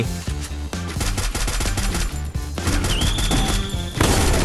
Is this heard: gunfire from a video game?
yes